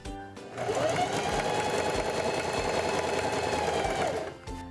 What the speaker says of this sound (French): Placez le tissu en dessous du pied presseur, abaissez le pied presseur et débutez une couture.